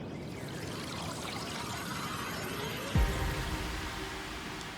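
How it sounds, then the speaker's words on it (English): Ocean ambience used as a sound effect in an electronic color bass track, a steady broadband wash of water and surf-like noise with a brief low thump near the three-second mark. "This ocean ambience is just for the second half of the first drop."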